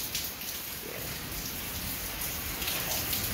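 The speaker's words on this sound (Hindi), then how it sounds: "बादल गरज रहे हैं ऊपर और साथ बारिश लगी हुई है।" Rain falls during a storm, a dense, steady hiss of drops hitting surfaces nearby with no distinct thunder clap audible.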